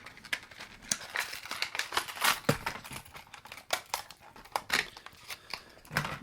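Plastic packaging around a small 3-inch gold holographic jerkbait being torn and opened, irregular close crinkling, snapping and tearing sounds in quick bursts with no talking.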